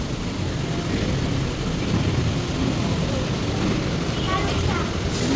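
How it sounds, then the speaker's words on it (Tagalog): Heavy rain pours steadily during flooding, a dense, continuous roar with low rumbling underneath, while people talk over the downpour. "Lakas ng ulan, no?"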